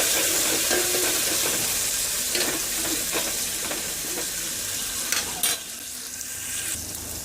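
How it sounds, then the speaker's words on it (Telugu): Tomatoes frying in a pan with curry leaves give a steady sizzle, with stirring clatter and a few sharper scrapes standing out near the end. "మనము కట్ చేసి పెట్టుకున్న టమోటా వేసుకోవాలండి వేసుకొని ఒకసారి ఫ్రై చేసుకోవాలి"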